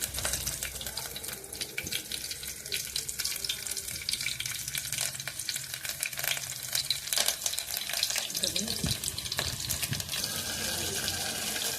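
Garlic sizzles in a hot mustard-seed and cumin tempering for Marathi dal, a steady close frying crackle with scattered pops and a few stirring scrapes, no voices over it.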